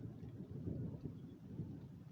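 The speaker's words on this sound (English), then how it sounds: "Thunder." Distant thunder rolling low and faint outdoors, a soft continuous rumble with slight swells and no voices over it.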